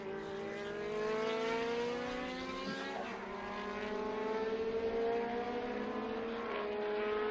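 Historic racing cars at the Estoril Classics circuit, with engines droning and shifting pitch as they pass at a distance, sustained and steady, no voices.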